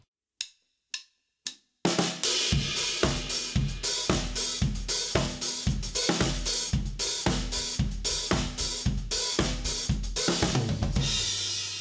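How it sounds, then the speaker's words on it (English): Drum kit playing a steady disco groove with two hands and the hi-hat opened on the offbeats, preceded by three sparse hits. Punchy, close and loud, with a washy open hi-hat at the end. "I'm opening the hi-hat on the offbeats."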